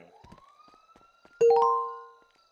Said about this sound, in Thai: ได้ยินเสียงไซเรนเองอะ